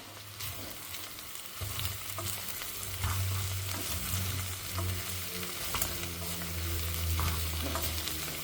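Mushrooms sizzling and frying in a single pot while biryani is cooked, a steady close crackle and hiss with occasional stirring scrapes throughout, no voices.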